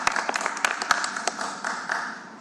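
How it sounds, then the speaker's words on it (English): A small audience at a county budget hearing claps, sharp scattered hand claps building into brief applause that thins out toward the end. "Let's give them a clap."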